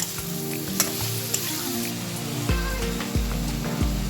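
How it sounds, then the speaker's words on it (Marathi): Prawn fry masala sautés in a pan with a close, steady sizzle and crackle, scattered spatters, and a few low scraping strokes as it is stirred. "हे चांगलं परतून घेऊया आपण"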